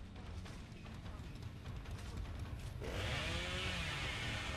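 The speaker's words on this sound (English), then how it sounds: "Let's do the chainsaw" Leatherface's chainsaw revs up in Dead by Daylight, with a sudden loud buzzing roar arriving partway through over game noise and a talking voice.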